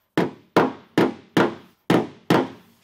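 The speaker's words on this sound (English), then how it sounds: "Now I'll go through and tap it as needed." Six sharp hammer taps strike the crashed Ram truck's metal body panel, evenly spaced and close, each a loud ringing knock that decays quickly.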